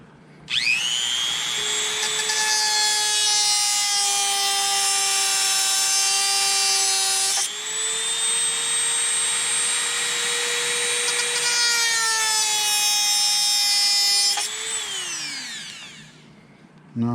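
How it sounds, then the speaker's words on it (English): A Dremel rotary tool grinds a part of a red patent Christian Louboutin shoe, a loud, steady high-pitched whine that shifts pitch in three long passes and then spins down. "And we're going to take our other Dremel."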